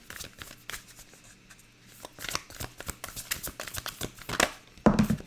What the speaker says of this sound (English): let's pull you some animal spirit cards as well